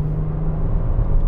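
Kia Stinger GT sports sedan under way, its engine giving a steady low hum with road and tire noise, loud and close, no voices.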